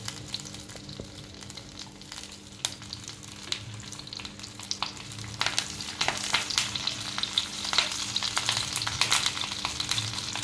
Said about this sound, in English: Once you notice your oil is heating up, add a cabbage.